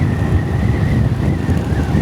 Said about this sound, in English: I enjoying this ride because it's windy. I'm sure you can hear it in the video.